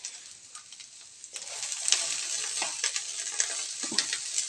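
Eggplant slices fry in a pan over medium heat, giving a steady bright sizzle and crackle that swells after the first second, with occasional stirring scrapes and no talk.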